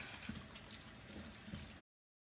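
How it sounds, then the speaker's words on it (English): Potatoes and carrots are rinsed under a running tap, a soft, steady splashing flow that stops abruptly after about two seconds, leaving silence. "Potatoes and carrots tend to have a lot of dirt in the nooks and crannies. Make sure everything's nice and rinsed off."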